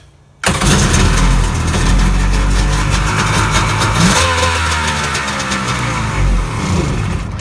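A 1999 Kawasaki STX jet ski, unrun for over 12 years, cranks briefly after a quiet moment and fires into a loud, close, rough idle that keeps running for the remaining seconds.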